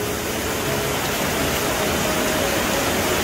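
Heavy rain pours down outdoors in a steady, dense roar of broadband hiss. It is loud and continuous throughout, with no talking.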